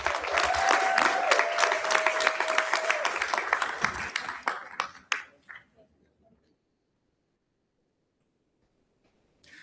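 A board of education meeting audience gives a round of applause, dense at first and thinning into scattered claps before fading to near silence, and a faint tone runs under the early clapping.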